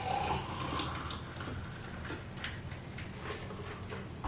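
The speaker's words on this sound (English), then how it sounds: "Now we'll pour in our blueberry lemonade." A steady stream of blueberry lemonade pours continuously into a sugar-rimmed glass, a soft splashing gurgle with faint clinks, close and fairly quiet.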